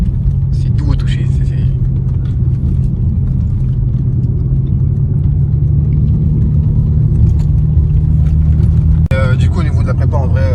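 A BMW 335i with a tuned engine of over 440 hp is driven while the engine is still cold, giving a steady loud low rumble throughout. People talk over it the whole time, and a brief knock comes near the end.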